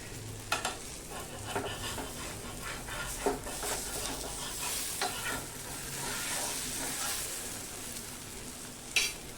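A mixed-flour dhirde pancake fries on a hot pan with a continuous crackling sizzle, punctuated by a few sharp scraping and tapping sounds from a spatula.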